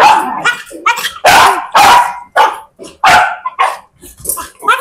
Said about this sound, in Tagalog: Kakagulo na yung mga aso ko kasi kanina pa ako wala.